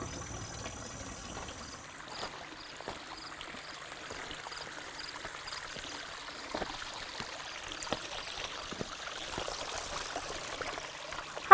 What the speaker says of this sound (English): The water running is just beautiful. It's a pond and a waterfall.